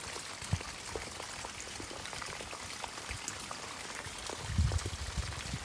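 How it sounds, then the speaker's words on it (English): Heavy rain pours steadily into a gutter in Livermore, California, a dense hiss of water splashing and running, with a few louder gushes and drips standing out nearby. "Just to show you how much it's raining."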